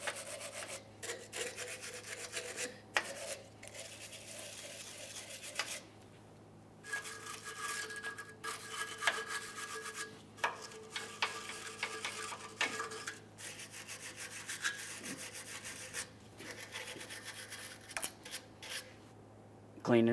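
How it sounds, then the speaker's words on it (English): A wire brush scrubs the front lower control arm mounting points on a 1999-2006 Chevrolet Silverado, giving repeated rough scraping strokes in bursts with brief pauses, close and fairly quiet. "Continue on to cleaning your mounting points where your brand new control arm will sit. Use a wire brush for this."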